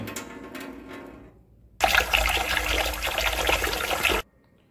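Lentils for dal makhani are rinsed by hand and their murky water is tipped away: a quiet trickle, then a loud, steady pour and splash for about two seconds that stops abruptly.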